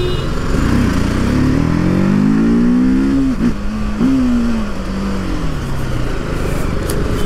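A TVS Apache RTR 310 naked motorcycle runs loud and close, its engine note climbing and dipping through revs and gear changes over steady road and wind roar.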